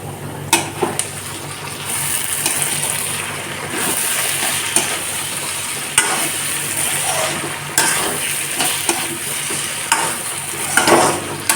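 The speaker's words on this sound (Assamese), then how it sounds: "হাঁহ মাংস যিমান ভাজে সিমান ধুনীয়া হয়" Duck meat frying in a pan with bay leaves for a duck curry, a steady close sizzle with occasional stirring scrapes and clinks throughout.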